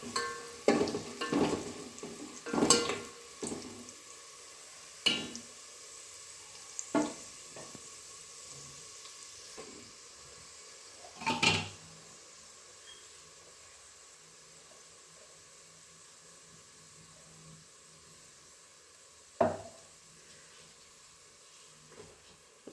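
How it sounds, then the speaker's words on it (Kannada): Dry coconut powder frying in oil for a Maharashtrian bhaji gives a soft, continuous low sizzle, broken by scattered loud scrapes and clacks of a spoon against the pan, with long quieter stretches between. "ಎರಡು ಬಟ್ಲು ಚಲೋ ಎಣ್ಣೆದಾಗ ಹುರ್ಕೋಬೇಕು"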